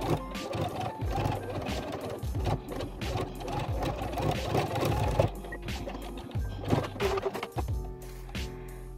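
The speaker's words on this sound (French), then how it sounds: "je vais venir faire une surpiqûre sur le bord supérieur de mon masque" Sewing machine topstitching the top edge of a fabric mask, a rapid mechanical chatter of stitching running in bursts with brief pauses, close and fairly loud.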